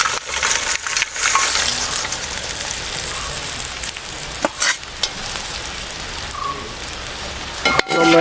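Fried beef is stirred into a sizzling beef pickle masala in a pan, the spoon scraping and turning the pieces through a constant crackling fry, with a few sharper clacks along the way.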